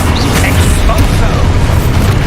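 An Exposo explosion spell goes off in Hogwarts Legacy: a loud, deep, rumbling blast that fills about two seconds with heavy low-end roar and crackling noise.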